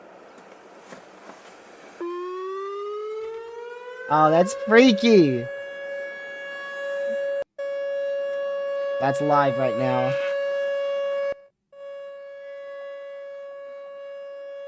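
An outdoor tornado warning siren wails live during the Easter Sunday 2025 tornado outbreak, rising to a long sustained tone that holds, cuts out briefly and resumes, while people talk excitedly over it.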